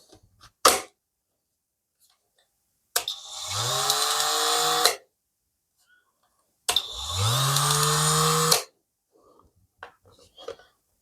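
A battery-powered oscillating multi-tool whirs up in two separate bursts of about two seconds each, a buzzing, high-pitched drone with short pauses and faint clicks between.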